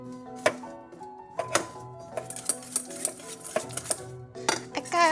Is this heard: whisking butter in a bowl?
yes